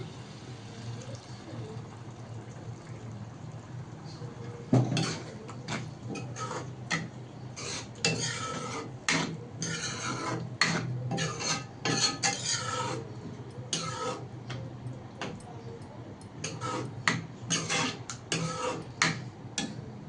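A spoon scrapes and taps against a pan while yogurt is stirred into tofu curry, giving irregular clinks and scraping strokes over a low steady hum, close and moderately loud.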